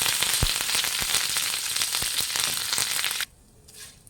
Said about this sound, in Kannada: ಆ ರೀತಿ ಇದು ಕರಿಬೇವಿನ ಸೊಪ್ಪನ್ನ ಫ್ರೈ ಮಾಡ್ಕೊಬೇಕು